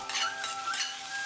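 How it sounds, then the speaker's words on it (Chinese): Ginger, garlic and pickled chili stir-fried in a wok, a brief hissing sizzle with a couple of quick spatula scrapes and a faint metallic ring, close and moderately loud, no voices. "少许翻炒"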